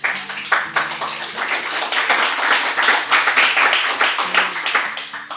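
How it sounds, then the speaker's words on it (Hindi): Audience clapping at a Hindi poetry recital, a fairly sparse, uneven patter of hands that swells and thins over several seconds, with some low tonal sound underneath. "तालियां कम मिल रही है भाई।"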